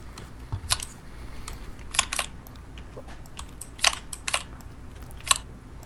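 Cards are shuffled in the video game Tabletop Simulator: a scatter of sharp, dry clicks in small clusters, fairly quiet and without talk.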